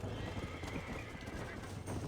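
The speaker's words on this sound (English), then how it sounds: "This one looks like Bonnie's horse." A horse in the Red Dead Redemption video game whinnies against a soft clip-clop of hooves, fairly quiet and heard in the background.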